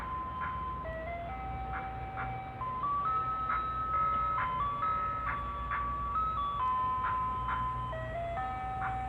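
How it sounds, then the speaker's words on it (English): An ice cream truck plays its tinkly melody outdoors, bright electronic chime notes repeating steadily over a low rumble of traffic and background noise for the whole stretch. "It is an ice cream truck."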